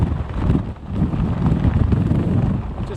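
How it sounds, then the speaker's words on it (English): Hurricane Zeta wind gusts of roughly 80 to 100 mph roar in loud, surging blasts that buffet the microphone, rising and falling over a few seconds with no talk. "We've had several wind gusts between around 80 and 100 miles per hour."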